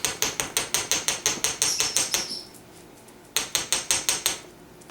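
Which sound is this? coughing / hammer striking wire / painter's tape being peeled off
hammer striking wire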